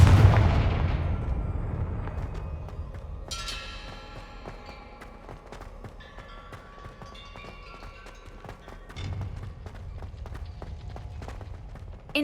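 A fiery Confringo spell explosion in Hogwarts Legacy booms at the start, then gives way to a long stretch of crackling impacts, scattered bursts and movement, with a second muffled blast near the end.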